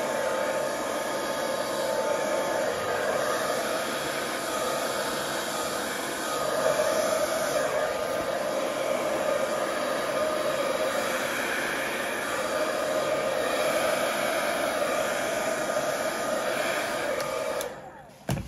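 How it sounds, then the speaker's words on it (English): A hair dryer blowing on poured acrylic paint with a constant whooshing roar for the whole stretch, then cutting off abruptly at the end. "I'm going to blow that out with the hairdryer."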